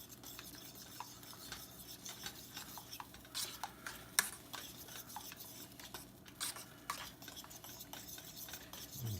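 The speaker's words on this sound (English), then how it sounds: "And just mix it all up thoroughly." A spoon stirs melting cheese into chicken dijon in a pan, producing steady scraping and clinking of utensil against metal over a faint sizzle, with no talking.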